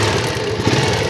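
A small motorcycle engine, about to have its carburetor tuned, idles steadily after starting, a close, continuous low rumble with slight fluctuations and no talking.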